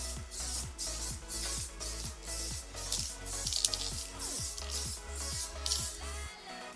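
A motorbike exhaust gets even coats of spray paint, with short hissing bursts repeating in a steady back-and-forth rhythm close up over a constant low background.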